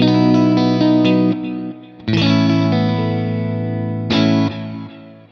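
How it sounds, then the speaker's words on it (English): Clean electric guitar through a Kemper amp with delay, ringing chords that sustain and decay, struck three times with repeats trailing into a spacious wash, loud and alone. "We've got a clean sound with a bit more delay."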